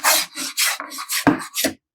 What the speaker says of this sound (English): when it comes to flattening it with the hand plane, you can go across the grain, with the grain.